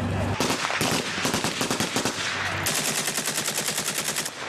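Gunfire cracks during street fighting among residential buildings in the Donetsk region. Rapid, loud, repeated shots come in close bursts that run almost without pause, and no speech is heard over them.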